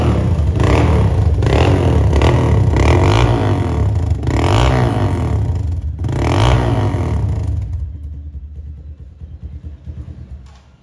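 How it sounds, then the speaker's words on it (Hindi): A Hi Speed Freedom 200cc motorcycle engine rumbles loudly nearby with several rising revving surges, then drops away into a faint, fading idle. "बाइक का साउंड भी चेक करवा दिया है"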